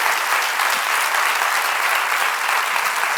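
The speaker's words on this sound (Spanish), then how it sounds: "Le dais un aplauso, por favor, a Elena Rosales." Steady, dense audience applause at a Spanish talk event fills the whole stretch, loud and even with no pauses and no voices on top.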